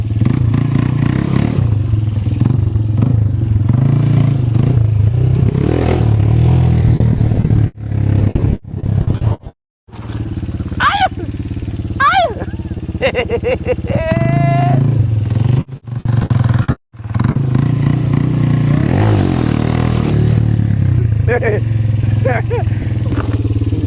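A motorcycle engine idles and revs in uneven bursts during stunts, with sudden drops and cut-outs, while people shout and talk nearby.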